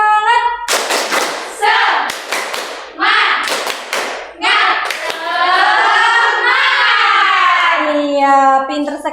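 A classroom of schoolchildren claps a rhythmic patterned clap in loud, close bursts, with their chanted voices rising through and between the clapping and sustaining at the end.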